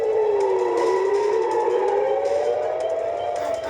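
A wailing air-raid siren in Haifa, Israel, rises and falls steadily throughout, loud and sustained, with no pauses.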